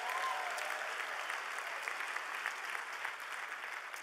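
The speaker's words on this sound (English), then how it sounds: "Give your pastors a great round of applause." A church congregation applauds steadily at a Sunday service, a dense, even wash of clapping that holds at a constant level throughout with no pauses.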